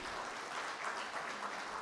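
An audience at a book launch event for a heart-themed book applauds with a brief, even burst of dense clapping, fairly faint.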